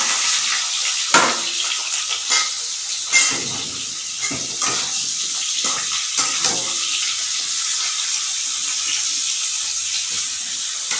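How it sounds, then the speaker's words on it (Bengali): Pieces of young jackfruit fry in a pan of oil after tempering, a steady loud sizzle with occasional stirring scrapes and clinks of a utensil against the pan. "এবার প্রথমে এঁচোড়গুলোকে একটু ভাজবো"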